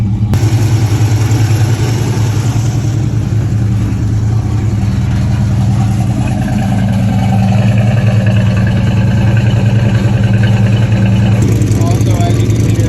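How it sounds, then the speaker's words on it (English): A blue truck with failed brakes and a loose, leaking cover idles on its own, holding a steady, loud low engine drone throughout. "it's idling on its own now"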